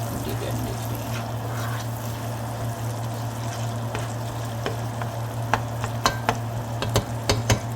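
Vegetable beef soup base being stirred in a heated pot, a steady low sizzle with a constant hum, then a series of sharp spoon scrapes and knocks against the pot toward the end.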